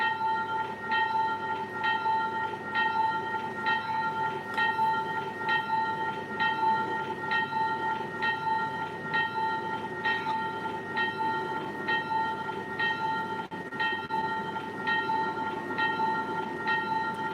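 A train in a train-driving video game pulling away after the brake is released at about half throttle, with a steady rolling rumble and a regular repeating clatter, plus a bell-like ringing tone running throughout.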